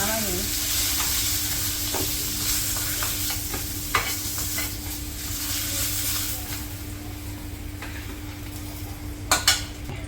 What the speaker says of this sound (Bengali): আলু ভাজি করবো সেজন্য তেল দিয়ে দিলাম আলুগুলো দিয়ে দিই